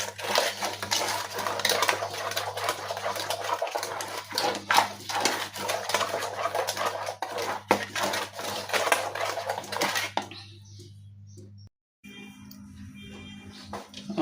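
A stick stirs cold, fridge-chilled batter in a bowl, giving continuous rapid clinking and scraping against the bowl for about ten seconds before it drops to quieter, sparser sounds.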